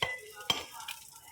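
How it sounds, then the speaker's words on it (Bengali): Pieces of rohu fish frying in a pan for a fish bhorta, giving a soft, steady sizzle with a few stirring scrapes and brief clinks, close and fairly quiet, with no talking. "মাছগুলো আমি সুন্দর করে মাছ ভাইজা নিচ্ছি।"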